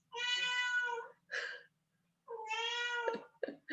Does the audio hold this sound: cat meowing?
yes